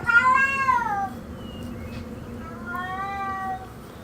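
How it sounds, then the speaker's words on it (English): A house cat gives two drawn-out meows, the first loud and close, the second softer and longer, against a low background hum. "Sorry, that's my cat."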